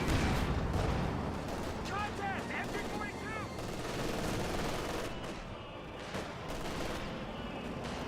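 Tank high-explosive rounds firing in Company of Heroes 2, with repeated gunfire cracks and battle noise layered over a dense wartime soundscape, while a commentator talks throughout.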